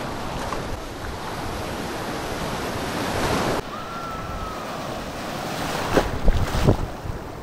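Sea surf rolling onto a beach under strong wind buffeting the microphone, a continuous loud roar with no talk and a few sharper splashes toward the end.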